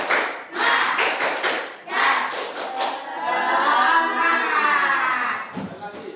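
A class stands and performs a rhythmic Indonesian spirit clap: bursts of patterned group claps and thumps, then a stretch of voices chanting together, with a final few scattered claps.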